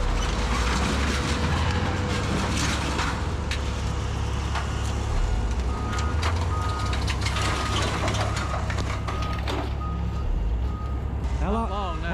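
A truck's wheels spin in a landfill with the hub locked. A dense, loud mechanical roar of engine and grinding continues throughout, with scattered clanks and a short chirping tone near the end.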